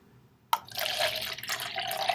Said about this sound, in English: you're supposed to properly pour the water out of the spout